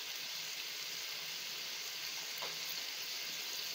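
Mutton liver frying in a pan gives a soft, even sizzle, a steady faint hiss with one small bubbling pop midway and nothing else over it.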